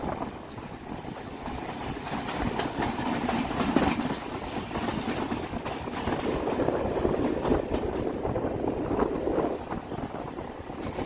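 A local train on the Sealdah South line toward Budge Budge rumbles steadily, a continuous rolling roar with faint rhythmic clatter and wind buffeting, heard from on board.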